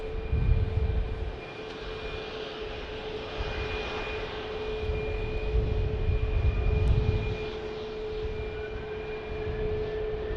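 A Southwest airliner departs Dallas Love Field, its engine roar a broad steady rumble with a high whine, swelling and easing over the span without any talk.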